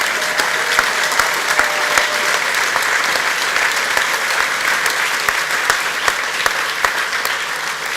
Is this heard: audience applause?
yes